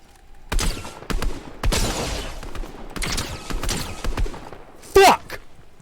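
Gunfire in the Fortnite video game, several separate shots and bursts at uneven intervals, fairly loud, with a sharp louder hit near the end and a voice talking between them.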